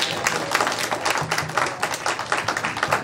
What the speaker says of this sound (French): Ça mérite plus d'applaudissements, mes amis.